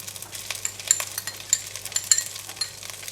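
Egg and vegetables hit a pan of frying shrimp fried rice, giving a soft sizzle with scraping stirs and light clinks of a utensil against the pan, fairly faint and close.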